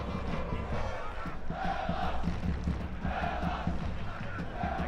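A football crowd at a grand final between South Melbourne and Marconi Stallions, applauding a substituted player from the far side of the ground, heard as a steady distant roar with rhythmic chanting and cheering and no break.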